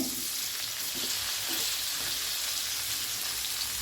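Four medium-sized, roughly chopped onions fry in hot oil in a pan, a dense, continuous crackling sizzle, close and steady, with faint stirring sounds underneath and no talking.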